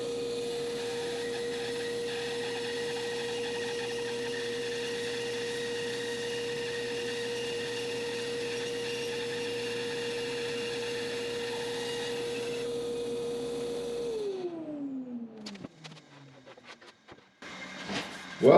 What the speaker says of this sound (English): So I'll put on my hearing protection and let's get this cutting.